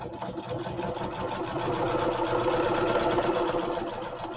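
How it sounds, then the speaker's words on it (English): A sewing machine stitches across the bottom of a small French envelope journal cover, a steady fast mechanical whirring and clicking that builds slightly louder over a few seconds, with no talk. "Now I'm going to stitch across the bottom."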